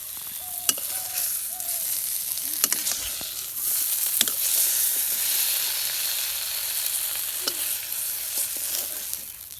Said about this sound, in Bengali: আজকে কি সুন্দর হচ্ছে মাছ ভাজা